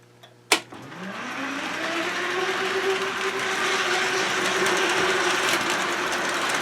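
A pair of MTH Docksider O-gauge model locomotives starting up on a layout: a sharp click, then a rising electric motor whine that settles into a steady hum with faint rolling rattle, close and moderately quiet.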